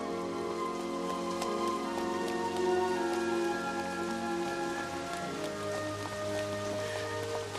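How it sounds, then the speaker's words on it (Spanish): Steady rain falls on surfaces in Sydney, a continuous hiss of drops that stays even and moderately loud throughout, with faint tonal music underneath. "Aquí en Sydney no para de llover"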